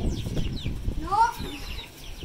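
Several bantam chickens cluck briefly at close range, a short rising call standing out over rustling and faint voices in the background.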